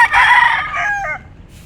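A loud, close rooster crow rings out once, bright and drawn out, fading at the end.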